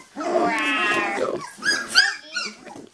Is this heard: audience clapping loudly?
no